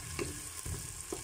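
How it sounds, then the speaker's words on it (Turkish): Onions sautéing in a pan for a home breakfast, giving a steady close sizzle and frying hiss with a few faint stirring clinks, no voices. "Soğanı kavruluyor burada."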